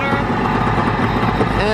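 A salvaged dumpster jet ski engine idling just under 1500 rpm, a loud, steady, close droning rumble with an even pulse and no breaks.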